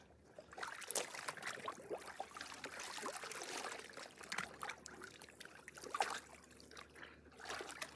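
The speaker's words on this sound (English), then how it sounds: "While I wait for my hair, I'm gonna rinse out my clothes." Clothes are rinsed in river water, giving a soft, continuous swishing and trickling with irregular splashes close by, faint overall and without speech.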